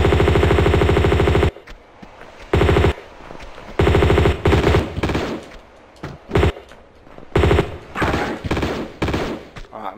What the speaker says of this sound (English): we're going to grab out the M16 and we're going to keep running while shooting them